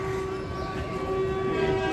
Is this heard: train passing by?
yes